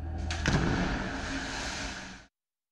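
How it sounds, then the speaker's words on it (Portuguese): A couple of sharp blasts hit up front, followed by a loud, sustained roaring rumble that ends suddenly. "Explosões."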